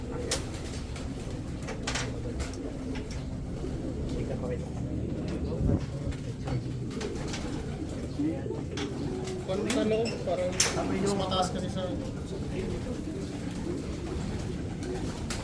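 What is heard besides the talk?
pigeons cooing in a loft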